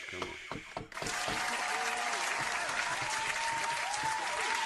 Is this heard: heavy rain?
no